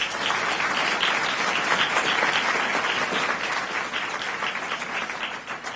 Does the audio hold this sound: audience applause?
yes